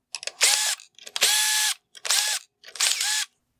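A power driver backs out screws from a 2016-2018 Hyundai Tucson xenon headlight during disassembly, giving four loud, close whirring bursts, each under a second long, with short pauses between them and no talk.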